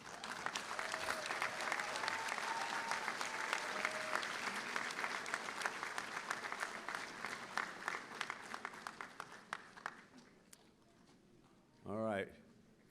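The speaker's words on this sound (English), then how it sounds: "Give them a round of applause." Graduates at a university commencement ceremony applaud, a broad, steady wash of clapping from a large crowd that thins out toward the end, followed by a brief ringing tone.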